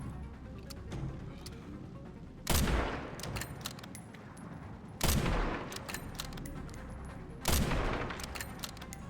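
Gunfire in the Resident Evil Requiem video game: three loud, booming shots spaced about two and a half seconds apart, each with a short ringing tail over a steady background hum.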